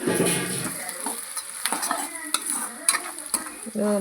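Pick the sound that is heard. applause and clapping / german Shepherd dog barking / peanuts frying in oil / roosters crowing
peanuts frying in oil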